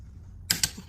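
A wrench torquing a Dodge Nitro driveshaft bolt to 80 foot-pounds, two quick close metallic clicks in rapid succession and a fainter third, in a quiet garage.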